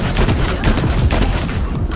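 Gunfire in a video game, a rapid cluster of loud, booming shots close by, continuous over a couple of seconds with no speech.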